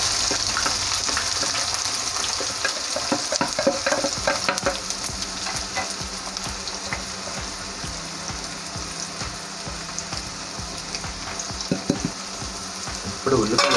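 Chopped onions frying in hot oil in a pan sizzle loudly and continuously, with scraping stirs and crackles up close, no voices over the cooking.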